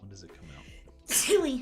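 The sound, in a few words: sneeze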